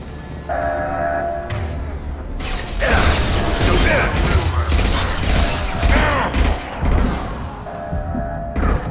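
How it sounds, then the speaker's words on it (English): A heavy metal security shutter grinds shut in the sci-fi game Mass Effect, a loud, sustained mechanical rattle and clatter with ratcheting, clanking bursts, ending on a steady hum. "Close that shutter before they can get through."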